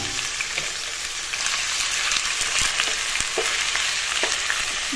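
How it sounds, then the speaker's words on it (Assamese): Chicken pieces fry with spice paste in a hot pan, a loud continuous sizzle broken by scraping knocks of a spoon stirring, close up with no talking. "মাংসখিনি এনেদৰে তলপৰ কৰি লৰাই দিছোঁ"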